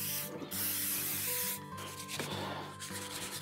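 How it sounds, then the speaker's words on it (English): Spray from a can of WD-40 lubricant applied to a rusty Haro BMX bike, a hissing, rubbing burst lasting over a second, with quieter handling noises and faint background hum. "Nothing a little WD-40 can't fix."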